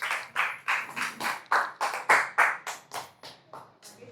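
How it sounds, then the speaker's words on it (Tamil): A small group claps hands at a Pongal greeting in a Salem temple setting, about a dozen distinct, fairly loud claps in an uneven rhythm over four seconds, with a voice faintly behind them. "நல்லா கைத்தட்டலாமே"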